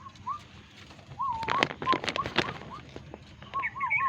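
Domestic pigeons nesting where they laid eggs coo and whistle in soft repeated phrases, with brief bursts of wing or rustling noise between calls, fairly close and with no talk.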